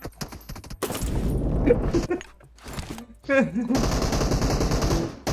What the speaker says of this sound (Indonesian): Kok tembok sih gue tembak.